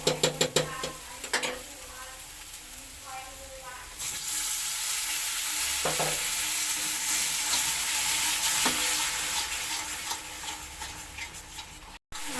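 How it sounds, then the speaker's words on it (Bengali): Sour yogurt goes into a pan of spice masala fried down until the oil separates, for a pomfret curry, bringing a loud, sustained sizzle with scattered utensil clinks and scraping; no one speaks. "এবারে আমি টক দইটা দিয়ে দেব।"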